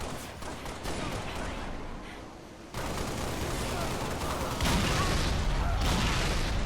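Dense gunfire and explosive bursts from a Halo 2 Anniversary multiplayer match, with a sharp rise in intensity midway as a grenade goes off, constant and fairly loud throughout.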